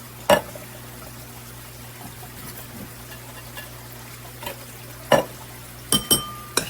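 Green beans get stirred into bacon fat in a bowl, with soft wet stirring over a low background hum and a few sharper scrapes and clinks toward the end.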